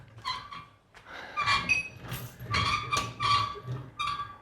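A Harbor Freight Pittsburgh 1000-pound engine stand squeaks close by in several high, whiny bursts with short pauses between them, clear and fairly loud with nothing else over it.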